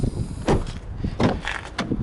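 The back door of a red 2014 Dodge Durango SXT Rallye is handled and opened, producing a series of close thumps and latch clunks spread across about two seconds, with no speech.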